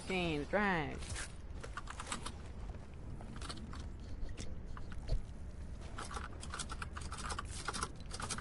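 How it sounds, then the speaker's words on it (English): Rapid clicking of a computer keyboard runs steadily in the background during an online Duos and Squads game. A brief tonal sweep sounds at the start, and the clatter keeps a quick, uneven rhythm. "Can't even hear you over your keyboard"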